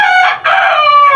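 A pet rooster crows once, close and loud: a single long, strained cock-a-doodle-doo with a short dip in the middle, alone with no other sound.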